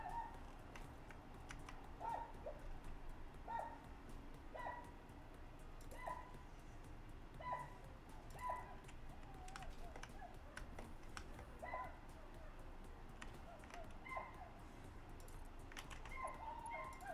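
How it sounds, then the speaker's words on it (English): Dogs on a balcony yip and bark faintly in the distance, short repeated barks roughly every second or two under a steady low background hum, with occasional clicking close by. "Dogs are on the balcony again."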